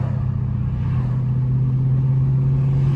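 Dodge Hellcat driving with a loud, steady engine drone and a strong low hum, close and continuous, with no one talking.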